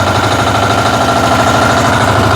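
A walk-behind tractor (motoblock) engine driving forward in a raised gear, a loud, steady, close mechanical drone with a fast rhythmic chug throughout.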